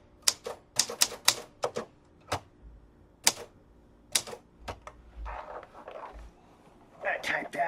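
A lightweight Lambert typewriter clacks out keystrokes up close, irregular sharp taps in bursts with pauses, followed by softer mechanical rustling near the end.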